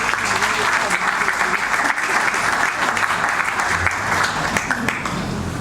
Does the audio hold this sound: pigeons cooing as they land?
no